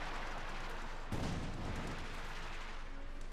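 Light infantry guns firing in a Company of Heroes 2 battle: a dull booming impact lands about a second in, set against a dense, continuous roar of battlefield noise.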